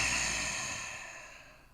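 A person doing lion breath in a yoga session, exhaling forcefully through the mouth with tongue out to imitate a lion; a single long, breathy, hissing exhale that fades away, close and fairly quiet.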